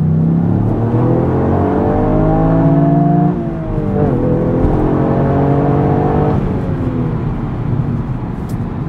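A Toyota GR Yaris accelerates hard in second gear, its engine note climbing steadily in pitch and loudness, easing briefly mid-pull before rising again, with a steady whir of road noise beneath and no talking.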